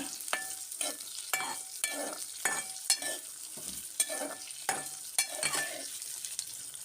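Onions frying in oil in a pan, stirred with a utensil in regular scrapes about every half second over a soft, steady sizzle, with no talking.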